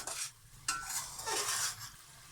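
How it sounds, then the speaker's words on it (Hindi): Shan masala frying in a pan while being stirred, giving a close, bright sizzle broken by a few scraping spoon strokes over about two seconds. "तो इसके साथ अब हम इन्हें अच्छी तरह से भून लेंगे।"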